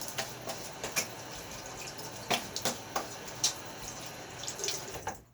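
Tap water runs into a sink to rinse a Gillette Fat Boy safety razor during a shave, with a soft steady flow punctuated by several sharp splashes and taps as the razor is rinsed and knocked, close by.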